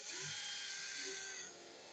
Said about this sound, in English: Pre-drill it, especially with the knot.